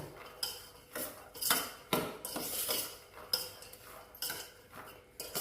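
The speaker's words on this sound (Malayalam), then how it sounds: "ഉപ്പിട്ടിട്ട് നന്നായിട്ട് ഇളക്കി കൊടുക്കണ്ട്" Salt being stirred into a Vishu pickle with a metal spoon, giving irregular scraping clinks and clatters against the pot, fairly close and alone with no talk.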